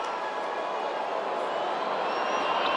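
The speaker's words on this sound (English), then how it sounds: "you can hear a whoosh from the crowd every time this man lets go of his javelin" A stadium crowd at a men's javelin throw final at the athletics world championships gives a broad, airy whoosh of noise, a steady rushing murmur that swells slightly toward the end.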